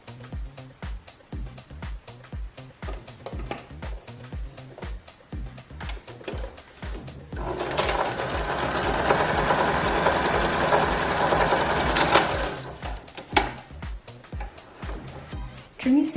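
A sewing machine stitches a knit band into a loop, starting with short rhythmic bursts of needle clatter, then running continuously for several seconds before slowing to a few final stitches, close and fairly quiet.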